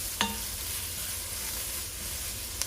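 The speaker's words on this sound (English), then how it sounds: "Let that kind of saute for a second." Ingredients saute in a pan for a Southern field peas side dish, a soft steady sizzle with a couple of brief utensil clinks, faint and alone.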